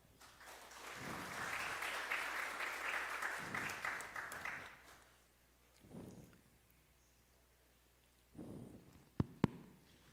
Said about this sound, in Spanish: La recibimos con un fuerte aplauso en este conversatorio de cierre, por favor.